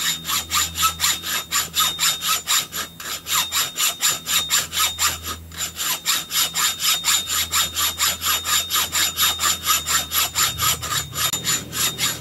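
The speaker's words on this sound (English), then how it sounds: "Hacksaw blade was dull" Hacksaw with a dull blade cutting through a motorcycle exhaust pipe, a fast, even rhythm of rasping strokes close up, steady throughout with a brief pause near the middle.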